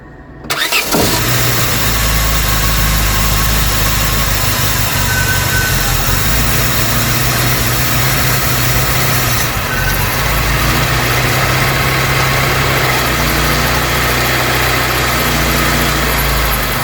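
Vauxhall Cavalier MK2 engine fires up on choke after a carburettor rebuild, catching abruptly and then settling into a loud, steady idle that runs on unbroken with a constant low hum, no voices.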